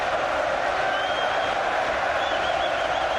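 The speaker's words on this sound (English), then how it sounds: "Listen to the crowd here." A boxing arena crowd roars during the Carl Froch vs Mikkel Kessler rematch, a dense, steady wall of cheering and shouting with a few whistles rising above the continuous din.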